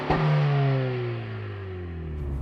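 Outside exhaust note of a 2025 Honda Civic Si rolling slowly, a steady mid-loud low rumble with a brief rise in revs at the start that then settles and holds.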